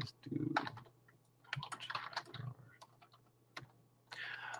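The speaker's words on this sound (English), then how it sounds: "I better just type it in for her." Keys clatter in uneven bursts on a computer keyboard during a live question session, with a steady low hum underneath and gaps of quiet between the typing runs.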